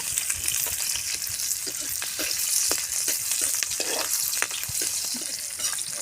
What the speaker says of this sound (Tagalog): Magigisa tayo ng bawang. Punta natin yung ating sibuyas at chili.